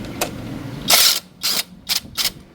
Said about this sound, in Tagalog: So gamit tayo ng impact wrench 14mm.